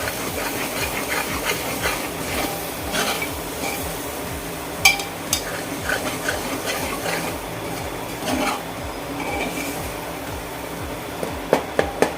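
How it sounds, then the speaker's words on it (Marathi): Red chili powder and onion-garlic masala stirred in a hot pan for a village-style chicken dish, giving a steady sizzling hiss with scattered scrapes and clinks of the spoon against the pan. "आता हे मसाले आपण व्यवस्थित असे मिक्स करून घेऊयात"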